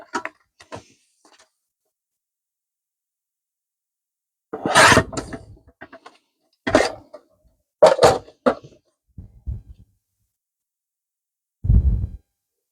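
Paper being cut for a blank folio: a few separate scraping and rasping cuts with long silent gaps between them, close and fairly quiet, with no talking.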